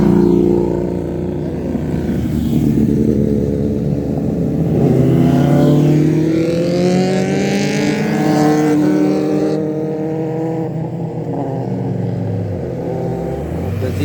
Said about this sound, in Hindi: The super bikes are I guess passing by now.